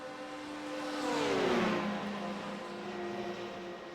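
Simulated race cars in a video game league race at Imola, engine whine rising as cars pass side by side with a Doppler drop, fairly faint with no talk.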